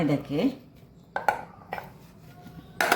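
A vegetable goes into a metal pot with a few sharp clinks and clanks, near and distinct, spaced out after a short stretch of speech at the start.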